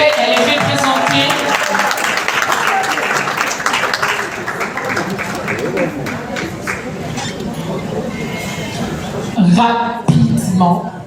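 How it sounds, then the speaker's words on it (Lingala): Sustained audience applause at an award ceremony welcomes Madame Bellevue Candy, dense clapping filling the room before a voice cuts in near the end. "Sur l'applaudissement, s'il vous plaît"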